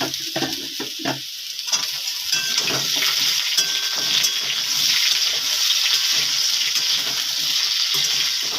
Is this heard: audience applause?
no